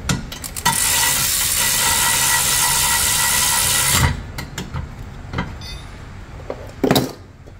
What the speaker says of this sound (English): I feel lazy when I grab this electric ratchet.